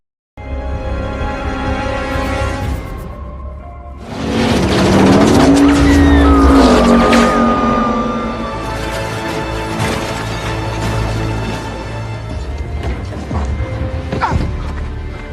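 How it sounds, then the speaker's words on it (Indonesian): A car speeding off a cliff edge and crashing below in a Fast and Furious–style action film, with a loud roaring engine, tire squeal and a heavy crashing impact amid dramatic music and sound effects. "cara yang digunakan oleh Dominic untuk melarikan diri, yaitu dengan menerjunkan mobilnya ke bawah tebing"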